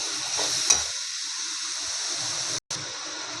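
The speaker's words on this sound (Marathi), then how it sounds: "तेही टाकून घेऊया आणि आपण चांगलं मस्त भाजून घेऊया त्याला." A cashew and almond powder mixture roasts in a pan over low heat, giving a steady soft sizzle with a scrape of stirring, up close, broken by a very brief cut near the end.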